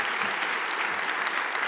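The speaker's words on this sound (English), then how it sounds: "So please, a round of applause also for Pydantic." Large audience at the EuroPython 2024 closing session applauding Pydantic, a thick, even wash of clapping at full strength throughout, with no voices cutting through.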